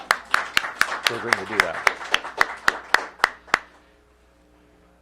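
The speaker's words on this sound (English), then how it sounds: "So I want to give her a round of applause" A steady run of about a dozen evenly spaced hand claps sounds over a talking voice at a public COVID-19 vaccination event in DC, then stops sharply, leaving only quiet room tone.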